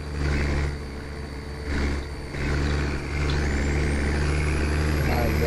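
A truck engine in a Brazilian truck-driving game rumbles steadily with a low, constant drone while the truck takes curves on a Paraná map, with brief hissing surges over the engine and a person talking.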